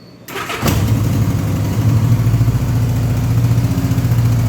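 A 1984 Honda GL1200 Goldwing motorcycle engine cranks and fires after a brief quiet moment, then settles into a steady, loud, slightly high idle with a deep even throb close by.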